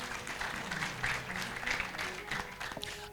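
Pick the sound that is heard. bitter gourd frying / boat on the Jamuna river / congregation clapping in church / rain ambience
congregation clapping in church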